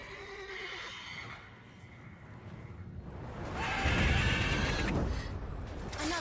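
A horse whinnies in The Witcher 3: Wild Hunt, a loud, strained neigh rising near the middle of the clip over game ambience and faint hoof and mechanical noises.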